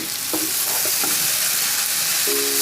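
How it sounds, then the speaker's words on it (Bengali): Homemade Chinese-style chow mein noodles being tossed and stirred in a hot pan: a bright, steady sizzle with a handful of soft utensil scrapes, close up and without speech. "নুডলসগুলো দিয়ে নাড়িয়ে চাড়িয়ে"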